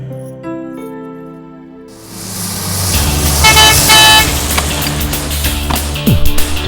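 A lorry horn honks outside in the morning, brief toots sounding over running engine noise and traffic, fairly loud and close, following a quieter stretch.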